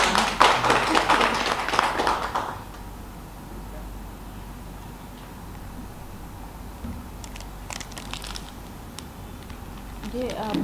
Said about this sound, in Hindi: जोरदार ताली तो बजा रहे।